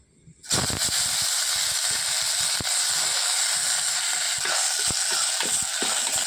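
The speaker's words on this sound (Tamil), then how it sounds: "சவுண்டு கேட்குதா பொரியிற சவுண்டு" Washed leaves dropped into hot oil in a pan burst into a loud, dense hiss of sautéing that holds steady, with faint clicks scattered through it and no talking.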